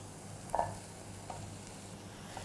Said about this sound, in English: I'm just going to saute it for about a minute or two until the mushroom gets fully cooked